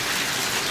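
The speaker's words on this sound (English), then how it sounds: "the rain has picked up, so we are sort of trapped in the barn" Heavy rain falls steadily outside a horse barn, a dense, loud, unbroken hiss with no voices.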